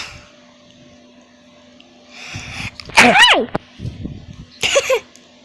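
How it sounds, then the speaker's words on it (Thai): A person sneezes once, loud and close, in a short harsh burst, while playing a fruit tower map game; quieter vocal sounds and game noise come before and after. "จามจามนิดหน่อย"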